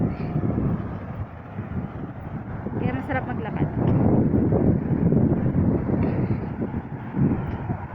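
Gusty wind buffets the microphone with a constant low roar, while a person speaks briefly over it.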